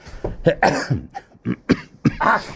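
A woman coughs repeatedly in short, harsh bursts, close and fairly loud, with a throat-clearing quality between the coughs.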